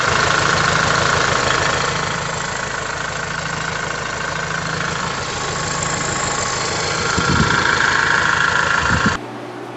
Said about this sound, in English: It's still got a kind of a clatter noise there, but that's just kind of how diesels do.